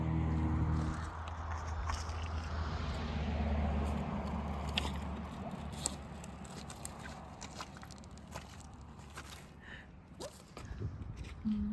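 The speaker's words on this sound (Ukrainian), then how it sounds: "Пробачте за звуки машин на задньому фоні." Traffic on a road close to a seated spot outdoors in Scotland, a steady low rumble of passing cars with a broad hiss that swells and fades, continuous throughout with no talking.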